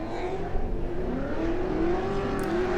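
A drift car at a Lone Star Drift pro-am competition under a heavy left-foot brake, its engine droning and revving at a steady high pitch, loud and sustained with a rising whine and no talk.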